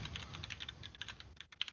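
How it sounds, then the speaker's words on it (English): Quick, uneven keystrokes on a computer keyboard while entering a password during a Windows 11 reinstall, a close, bright clatter of taps that pauses briefly before a few final presses. "I could be actually showing you what I'm typing."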